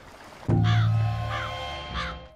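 Several crows caw loudly and close by, a sudden harsh burst followed by spaced repeated calls, heard over a low rumble in a wartime Joseon village setting.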